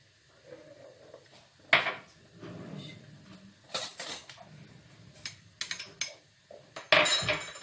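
Sucuk and cheese bread filling is mixed in a bowl with a utensil, producing scattered clinks and scrapes against the bowl at close range, some louder knocks among quieter stirring, with no talking.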